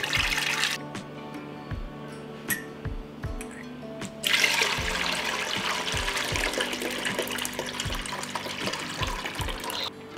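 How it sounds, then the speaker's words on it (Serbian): Water poured from a jar into a large cooking pot makes a steady, close rushing splash that starts about four seconds in and runs to the end, over faint recurring low knocks. "Prošlo je 15 minuta i nalit ću vodu u šerpu."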